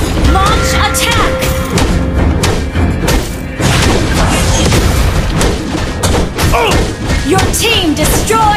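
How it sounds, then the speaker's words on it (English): Booms and thuds of a turret being destroyed in a mobile MOBA game, layered over dense game music, effects and announcer voices throughout. "Your team destroyed a turret!"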